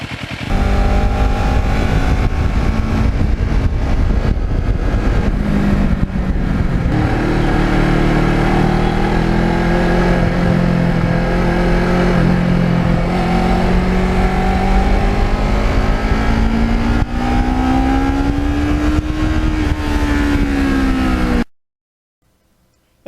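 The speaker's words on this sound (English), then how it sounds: "Now this bike gets over 50 miles to a gallon when you ride like a human being" A gold and black Ninja motorcycle on a ride past frozen lakes, its engine droning loud and steady with rising and falling pitch as the rider shifts and accelerates, cutting off abruptly at the end.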